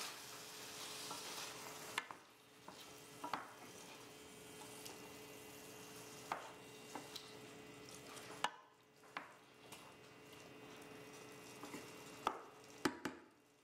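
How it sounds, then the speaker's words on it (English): Kalamata olives and chickpeas are stirred in a pan, giving faint soft scraping and clacking of a utensil with a few sharper knocks against the pan over a low sizzle, with no talk. "Stir the Kalamata olives to combine. Add the chickpeas. Stir to combine."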